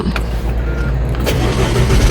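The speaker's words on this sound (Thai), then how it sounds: "เดี๋ยวเราสตาร์ทเครื่องยนต์ดูนะ ปุ่มพุสตาร์ทอยู่ตรงนี้เลยค่ะ" An Isuzu MU-X 1.9 Ultimate SUV from 2023 starts via its push-start button, a brief crank near the middle settling into a steady, fairly quiet engine idle against a constant low rumble; no one speaks.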